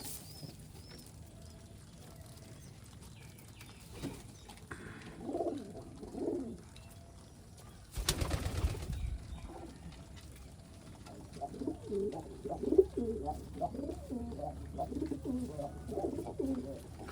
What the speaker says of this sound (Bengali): সকল কবুতর ডাকাডাকি করে